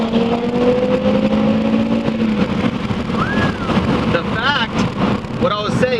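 A 2019 Audi RS3 with a Unitronic Stage 2 tune does a launch, its engine revving hard and climbing in pitch under steady wind buffeting, with voices faintly audible in the background.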